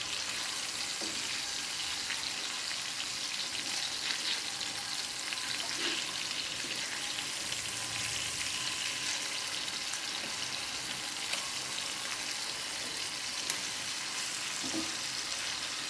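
Kingfish (neymeen) frying in a covered pan: a steady, fairly loud sizzle and crackle throughout, with occasional soft pops and no talking.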